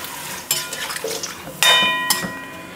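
A cooking pot freshly filled with coconut milk is stirred, giving a few sharp metallic clanks and scrapes of a spoon against the pot over a faint simmer, close and fairly loud, with no voices.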